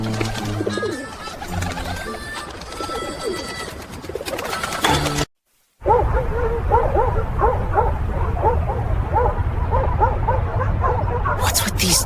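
Cartoon dogs bark in repeated bursts during a city scene, the yaps running under busy music and voices, with a brief silent gap partway through.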